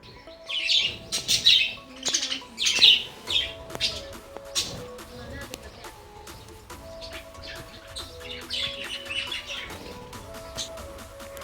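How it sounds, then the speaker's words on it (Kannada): Many small birds chirping and tweeting in bursts, some calls nearer and louder, others faint in the distance, with a few scattered other noises. "ನೀವೇ ಒಂದು ಸತಿ ಕೇಳಿಸ್ಕೊಳ್ಳಿ ಪಕ್ಷಿಗಳ ಚಿರ್ಪಿಂಗ್"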